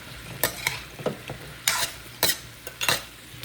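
Red tomatoes are stirred in a pan for paneer butter masala, with about ten sharp spatula scrapes and knocks against the metal over a soft background sizzle and no talk.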